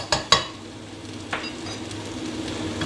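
Shallots, garlic and a tablespoon of all-purpose flour sizzling in a pot as they're stirred into a loose paste: a steady close frying hiss with a couple of sharp utensil clinks at the start and one more scrape later.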